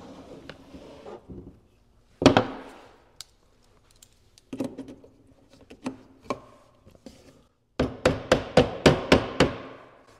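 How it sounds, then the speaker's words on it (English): A mallet taps barbed hardware into wood during a built-in cabinet build: scattered sharp knocks at first, then a quick run of about six crisp, close taps at the end. "you might need to tap it in"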